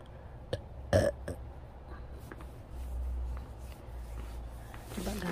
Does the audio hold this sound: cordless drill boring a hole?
no